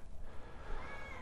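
A cat meowing outdoors near a greenhouse, one faint drawn-out meow with a rising and falling pitch over soft background noise.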